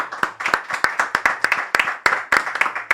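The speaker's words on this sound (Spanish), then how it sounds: "Le damos un aplauso a la nueva incorporación de la cámara de streaming, Jeffrey." A small group claps in a quick, uneven rhythm of sharp, close hand slaps during a live streaming show, with no one talking over it.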